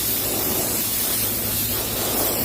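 Spray paint goes on in a light coat of colour over a broken motorcycle fuel tank side cover, a loud, close, unbroken hiss that holds steady the whole time.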